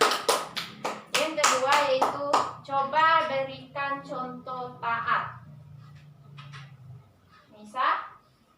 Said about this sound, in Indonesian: Aplaus buat Nova